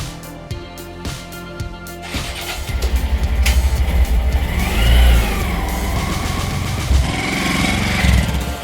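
A Honda Monkey 125 (JB03e) motorcycle engine idles after an oil and filter change, starting with a few slow cranking chuffs and then settling into a steady, close putter that rises slightly now and then.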